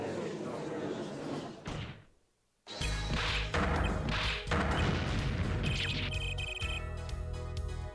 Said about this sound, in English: He yelled objection and every single impact explosion noise in the game played at once